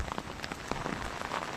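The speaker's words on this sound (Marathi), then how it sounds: "खूप पाऊस येऊन राहिला." Heavy rain falls near a river where vehicles have stopped, a short burst of dense, close pattering with scattered sharper drops.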